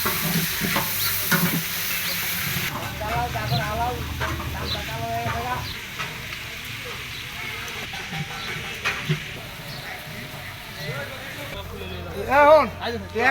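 Large pots of food stir and sizzle while cooking at an outdoor political rally, with scraping and frying noises running under steady talk from several people and crowd bustle, plus a loud clatter near the end.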